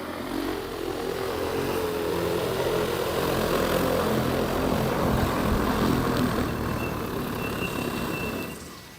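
Agricultural J150 spray drone making a manual landing over terraced farmland, giving a steady loud broadband rotor roar that holds throughout and tapers slightly at the end, with no talk.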